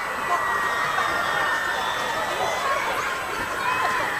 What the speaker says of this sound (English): The Newtown student section sounds like a World Cup game.